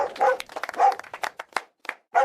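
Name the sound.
dog barking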